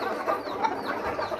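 Aseel chickens cluck in a rooftop cage, with short, soft clucks over a steady background for about a second and a half.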